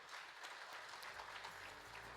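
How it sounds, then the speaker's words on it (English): Applause from an audience at a service economy survey unveiling as the guest of honor walks up to the stage, a soft, steady patter of many hands that sounds fairly distant and continues through the whole stretch. "Let's give him a big round of applause as he comes"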